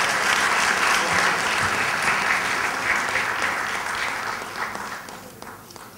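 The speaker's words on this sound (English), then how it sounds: "Another round of applause to Dato' Rohana." Sustained audience applause at a formal event, thanking a guest of honour after a Q&A session; dense, steady clapping that fades gradually toward the end.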